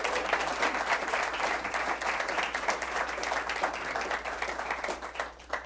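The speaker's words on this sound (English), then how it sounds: "we ask that the studio audience refrain from applause during the debate, except for now, when we welcome the candidates for mayor, Bridget Newton and Mark Pierzchala." A studio audience at the 2013 Rockville mayoral debate applauds steadily to welcome the candidates, a dense, even wash of clapping that holds at full strength throughout without talk.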